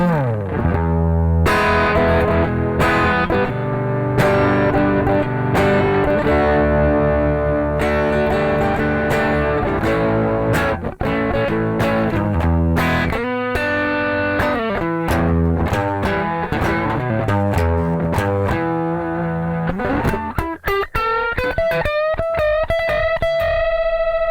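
Electric guitar played through a Keeley Aria pedal with its compressor engaged, a loud, sustained overdriven tone with strummed chords and rich harmonics, ending in a run of quick picked notes, no voices.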